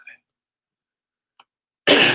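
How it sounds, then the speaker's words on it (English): After near silence, a short, harsh burst of throat clearing erupts loudly at the end, close to the listener. "I'm just clearing my throat here."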